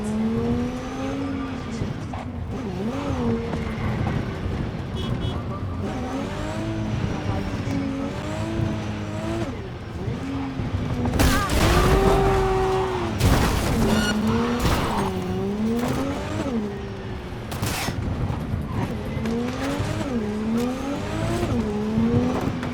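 Engine hum of a car being driven in the Cyberpunk 2077 video game, with revving pitch sweeps, tire squeals and impact bursts, heard under steady talking.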